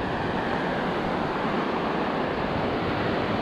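Surf rolls onto Kamala Beach in Phuket, Thailand as a steady, full wash of breaking waves. It stays close and constant throughout, with some wind buffeting the microphone.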